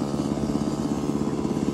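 A small mini motorcycle engine runs steadily stuck in first gear, a buzzing, slightly clattering drone with quick even pulses, fairly close and continuous with no talk.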